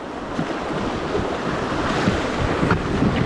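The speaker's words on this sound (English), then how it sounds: "Like a mini rapids." Small river rapids rush and churn around a packraft, a steady broadband wash of water with wind buffeting the microphone, continuous and close, no voices.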